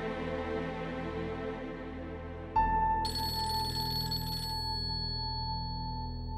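A telephone rings in a domestic drama scene, a steady electronic ringtone sounding clearly and continuously with a shift in its tone partway through, no voices over it.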